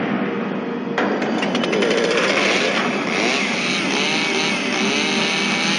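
A loud, buzzing motor roars steadily after a sudden start, revving with a harsh whine like a chainsaw, close and continuous.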